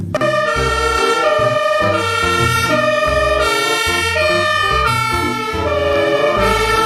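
Toy fire truck siren wailing loud and close in a repeating electronic pattern, steady and continuous with no voices.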